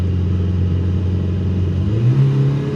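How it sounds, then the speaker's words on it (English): A Nissan Be-1 small car engine climbing a big hill, a steady close drone whose pitch rises noticeably near the end as it downshifts and revs higher. "Let's try this big hill. Yeah, downshifted."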